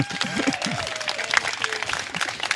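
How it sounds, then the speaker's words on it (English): A modest round of applause from a church congregation at a Sunday service, with light scattered clapping under and between bits of talk. "let's give them a round of applause"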